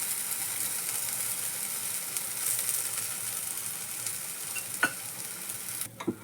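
Bajra and methi dosa sizzles in a pan as a little oil is added around the edges, a steady frying hiss with a few sharp scraping ticks near the end.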